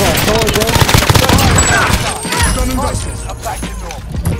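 M13 rifle firing in a video game shooter: loud, close, rapid automatic bursts that keep rattling on, with other busy game sounds mixed in.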